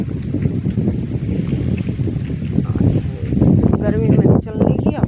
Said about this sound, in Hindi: हवा भी चल रही है